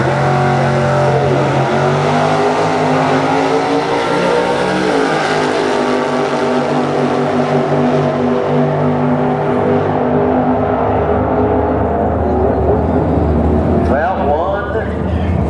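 Drag race cars, including a '72 Maverick, roar continuously at the Streetcar Super Nationals, loud sustained engine noise with revving rising toward the end, while an announcer talks over it.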